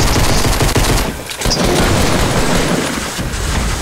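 Rapid loud gunfire in a video game, a dense fusillade of shotgun-like blasts with booming reports, sustained throughout with a brief dip in the middle.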